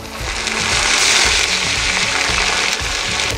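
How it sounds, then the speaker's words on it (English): Wine deglazing a hot pan sizzles steadily, a loud, bright hiss of liquid bubbling that keeps going without a break and with no voices. "I can hear the wine bubbling away behind me."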